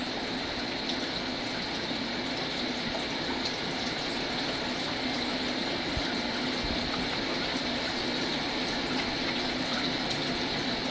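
Water flowing through a garden pond or nearby creek, a steady, dense broadband rush that stays even and continuous throughout with no breaks.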